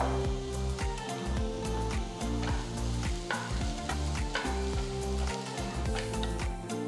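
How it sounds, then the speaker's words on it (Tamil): Dried red chillies and tamarind sautéing in a pan, giving a busy close sizzle with rapid, repeated spatula scrapes and knocks against the metal throughout, loud and uninterrupted. "சிவப்பு மிளகாய் சேர்த்து வதக்குங்க."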